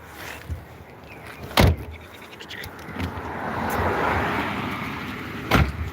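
A car passes outside a home, its engine swelling and fading over a few seconds, framed by two sharp knocks like a door closing nearby.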